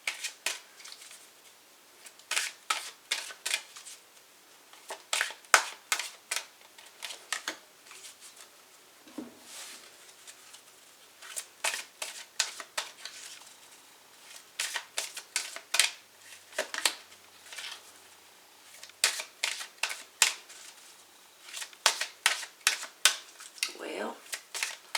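Close, soft riffling and snapping of Arcanum Tarot and oracle cards being shuffled in repeated bursts, with brief pauses between rounds and a quiet room behind.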